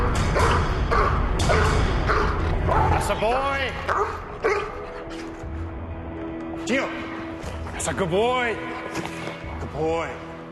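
A police tracking dog on a suspect's scent gives repeated yips, whimpers and sharp barks in close bursts, with noisy movement and talk underneath.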